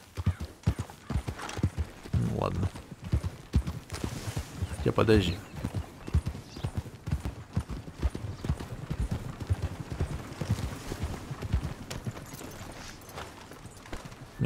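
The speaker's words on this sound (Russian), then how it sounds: "А это их лошади." Horses' hooves clip-clop in Red Dead Redemption 2, with steady near footfalls running throughout and a brief whinny partway in, while someone speaks a few words over them.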